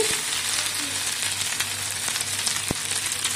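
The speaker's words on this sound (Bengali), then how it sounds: "তো ভেন্ডিটা তেলের উপরে দিয়ে নেড়ে চেড়ে নিয়েছি।" Okra frying and being stirred in hot oil, a steady close sizzle throughout with an occasional sharp clack of the spoon against the pan.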